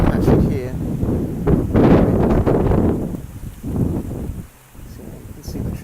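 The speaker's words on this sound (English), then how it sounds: "So you can see the trees are blowing." Gusty wind tossing trees on a blustery day, a broad roaring rush that swells and eases in waves, with close microphone buffeting and a brief lull near the end.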